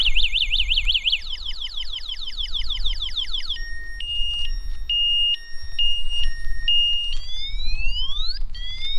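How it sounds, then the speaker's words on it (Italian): A Kugoo M4 Pro 500W electric scooter's add-on anti-theft alarm set off by moving the scooter, cycling through loud electronic siren patterns: a fast warbling trill, rising sweeps, then a steady two-tone beeping and more upward whoops, with faint low background rumble. "come modifica ho messo una sorta di allarmino, ok, ora è abilitato. Se io provo a muoverlo, suona"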